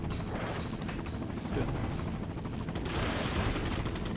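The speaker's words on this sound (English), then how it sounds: "I'm just gonna let the helicopter do all the work." Helicopter gunfire in Resident Evil 4: a dense, continuous roar of rapid shots and rumbling blasts over game background noise, loud throughout with a brief swell near the midpoint and again toward the end.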